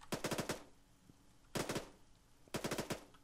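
Automatic gunfire in the military shooter ARMA 3 comes in three short, loud bursts of about five rapid shots each, spaced roughly a second apart, with no voices.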